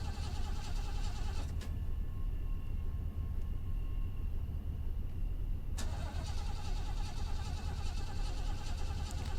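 A car engine in the game Fears To Fathom cranks and fails to catch, a steady loud mechanical grind running throughout, briefly dropping to a quieter hum in the middle before the cranking resumes.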